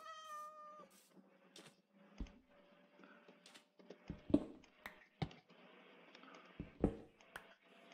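A Minecraft cat meows in the opening second with a clear tonal call, followed by scattered game clicks and thumps at a moderate level with no talk.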